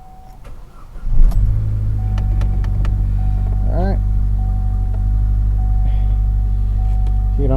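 A Chevy Cruze engine starts with a brief surge, then settles into a steady low idle rumble that runs throughout, with a short voice heard partway.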